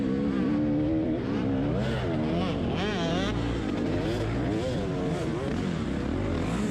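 Off-road dirt bikes race up a steep hill climb during a GNCC cross-country event at Buckwheat 100, engines revving loudly and continuously with shifting pitch as several machines climb, with faint voices mixed in.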